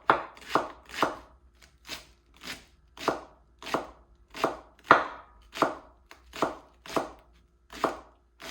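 Spring onions being chopped with a knife on a board, about a dozen crisp, evenly spaced cuts in a steady rhythm, close and clear with no talking.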